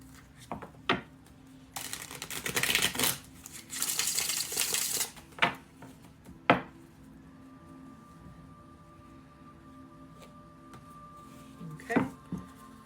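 Tarot cards shuffled by hand: a few soft taps, then a dense, papery burst of shuffling for about three seconds, followed by scattered single clicks and card knocks in a quiet room.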